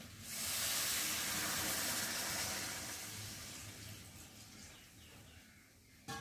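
Chicken curry simmering in a pot after water is added, a steady broadband bubbling hiss that swells early and holds for several seconds, then fades slightly, with no voices.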